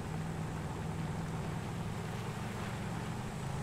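A Merriweather Mesa off-roader strains uphill in GTA 5 with a failing transmission, its engine droning steadily and evenly at close range without a break.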